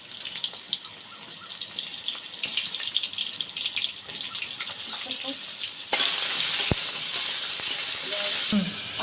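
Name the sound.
frying dried chillies and five-spice seeds in oil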